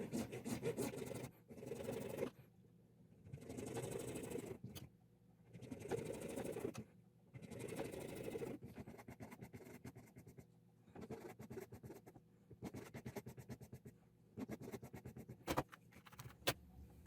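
A carving wax block is sawn and trimmed in repeated scraping bursts, each lasting a second or two and broken by short pauses, close and fairly quiet.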